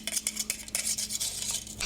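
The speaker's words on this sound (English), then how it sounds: "Now let's mix it up one more last time." A utensil stirs a rainbow ice cream mixture in a bowl, giving steady scraping and clinking strokes that repeat in a quick, uneven rhythm, close and clear with no talking.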